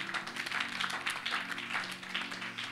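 A church congregation clapping at a conference gathering, a faint continuous patter of many hands applauding in a reverberant hall, with a low musical hum beneath.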